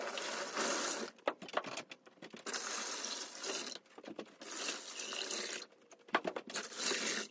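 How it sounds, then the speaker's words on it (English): Water filling a plastic tote hydroponic system, a fairly faint splashing rush that comes in bursts and stops with short pauses between, no talk. "we only need to fill up enough water to cover the air stones completely"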